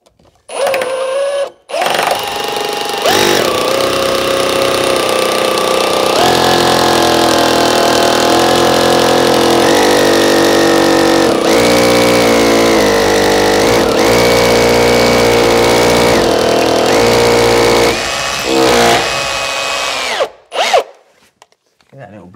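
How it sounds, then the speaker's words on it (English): A 6mm drill bit bores through a pilot hole in a wooden staircase, the power drill whining loudly and steadily for about eighteen seconds with several small changes in pitch, then stopping. "I'm using a 6mm drill through my pilot hole"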